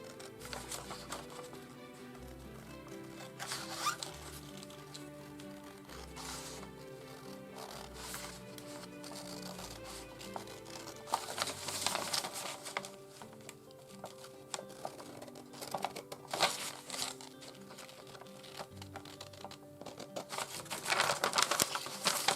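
Scissors snip along the dotted line of a paper apron pattern, faint irregular crisp clicks and cutting sounds repeating across the stretch at low volume.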